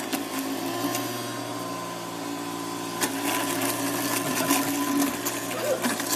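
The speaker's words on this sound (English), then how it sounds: "So get your Onion, you got to blend it." A blender whirs steadily as it blends onion for curry paste in a home kitchen, a constant buzzing hum with a few clicks and knocks over it, moderately loud throughout.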